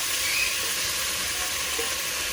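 Steady sizzling hiss of ginger paste dropped into onions frying in a pan, a broad even crackle held at moderate level throughout with no talk.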